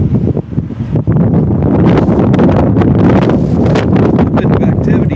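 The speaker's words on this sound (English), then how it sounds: "Looks like they're actually trying to work in this wind." Strong wind batters the microphone in a loud, continuous roaring rumble with gusty bursts throughout, a voice briefly heard beneath it.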